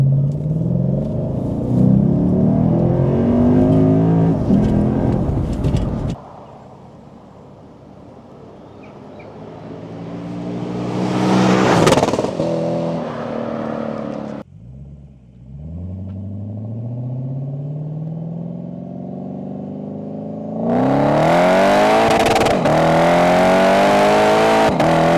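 Lexus IS F V8 exhaust revving loudly, rising and falling through several throttle blips with a deep rumble between them, close by and alone without talk.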